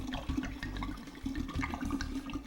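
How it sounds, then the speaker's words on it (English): Wine from two bottles pours steadily into a pitcher while making sangria, a continuous close, gurgling liquid stream lasting the whole moment with no talking. "I'm going to pour 2 bottles of wine in"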